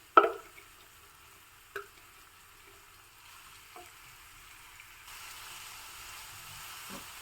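Chopped kohlrabi frying in hot oil in a pan, Honnavara Brahmin style: a couple of sharp sizzling bursts as pieces hit or are stirred, then a soft, steady hiss of frying, close with no talk.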